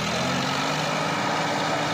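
Sonalika DI 745 tractor engine pulling a small loaded trolley, a steady loud diesel drone with low rumbling pulses, close and continuous throughout.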